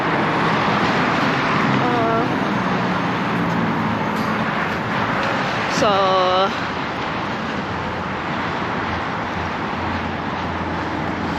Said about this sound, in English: there's like some car noises here